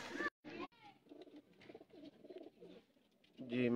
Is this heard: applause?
no